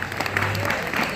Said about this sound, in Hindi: ये जो हैं इनके लिए जोरदार ताली बजाओ